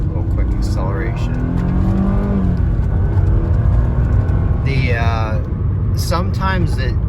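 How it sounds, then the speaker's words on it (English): A 2000 Mercedes-Benz CLK320 Cabriolet at full throttle, its engine rising steadily in pitch with a brief shift partway through, heard from inside the cabin under loud road and wind noise, with someone talking over it. "I'm gonna go ahead and floor it here. A little quick acceleration."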